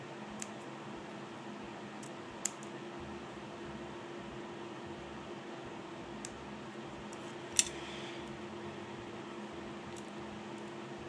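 Small scissors snipping a nail art decal to shape, a few faint, sparse clicks over a steady low room hum.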